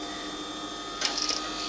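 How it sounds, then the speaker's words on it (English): A sewing machine stitches the boxing strip of an interior sprung cushion: a steady mechanical whir and hum, with a short burst of rapid needle clatter near the end. "carry on sewing, and so forth all the way round"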